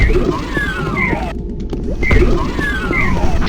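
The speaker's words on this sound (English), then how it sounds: "that's the sound of an armor pickup, in this case an armor bonus." Several quick bright armor pickup blips from a game with the Toby Accessibility Mod recur over a busy, rumbling game soundscape, one after another at a steady pace.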